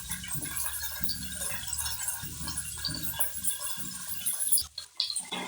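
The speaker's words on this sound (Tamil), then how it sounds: "புளி தெரியும், அதை ஊற்றிக்கலாம்." Tamarind water is poured and mixed by hand, making rhythmic wet sloshing and splashing up close, with a brief gurgle near the end.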